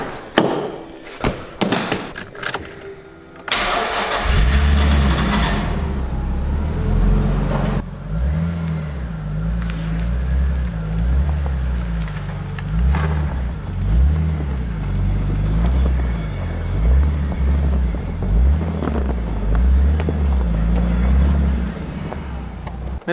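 A Nissan Skyline GTS-T R33, original apart from minor mods, idles and rolls onto a trailer, its low engine rumble steady and close with a few brief clunks and knocks at the start, no talk.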